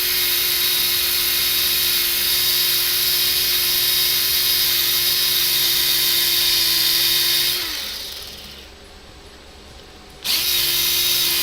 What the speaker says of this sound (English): I'm trying to get these polished knobs really nice and shiny.